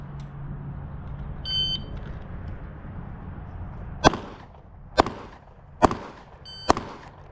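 Four sharp, loud gunshots spaced about a second apart at a timed shooting competition, each with a short ringing decay, preceded by a low hum and a brief electronic beep.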